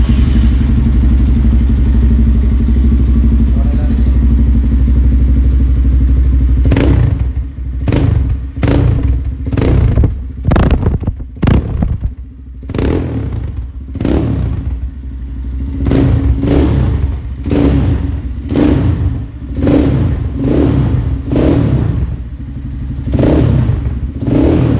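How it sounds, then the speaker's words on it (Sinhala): An EGL Motor Mad Max 250 ATV idles with a loud steady rumble, then gets revved in a long run of sharp throttle blips, more than a dozen bursts rising and falling close by. "අපි බලමු මේ ATV එකේ sound එක මොන වගේද කියලා."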